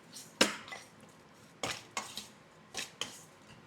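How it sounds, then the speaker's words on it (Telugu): Chicken being mixed with three seasonings in a bowl, a utensil clinking and scraping against the dish in a few sharp, separate strokes, close and fairly quiet, with no voices. "ఇవి 3 వేసి బాగా కలిపి"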